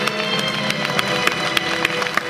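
An audience at the Romics 2004 convention claps steadily, with dense applause and a few sharper individual claps standing out.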